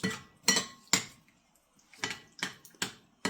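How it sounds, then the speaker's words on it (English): A spoon stirring brown sugar into chili in a pot, a run of close, crisp clinks and knocks against the pot's side in an uneven rhythm with short pauses and no talk. "We're going to stir it in really well."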